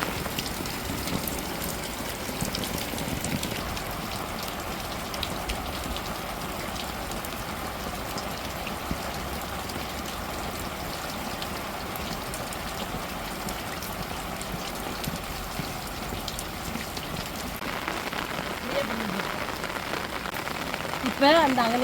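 Heavy rain pours steadily in a village, a dense, continuous hiss of drops on surfaces with water running, loud and unbroken throughout.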